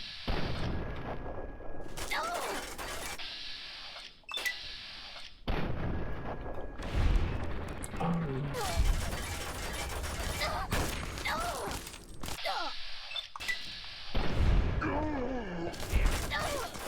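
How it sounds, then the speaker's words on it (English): Turret gunfire in Fallout, Tale of Two Wastelands, in the Pitt, arriving as repeated bursts of shots separated by short gaps, fairly loud and mechanical, with no voices during the bursts. "Oh, it's a turret."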